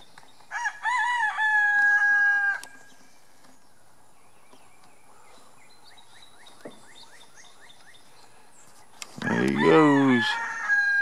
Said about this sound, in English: He heard that chicken, I reckon.